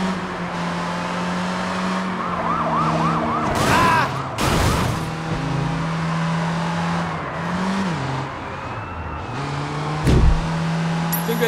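Police sirens wail and warble through a Sleeping Dogs car chase, rising and falling over a steady engine drone with loud bursts of impact and skidding noise; no talk.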